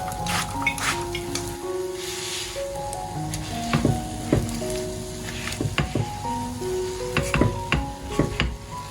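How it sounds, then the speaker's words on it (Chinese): Red bean-filled glutinous rice cake, sprayed with cooking oil, frying in a pan over low heat: a continuous sizzle broken by several sharp clatters and knocks as it is flipped, with music playing underneath. "再翻一个面继续煎。"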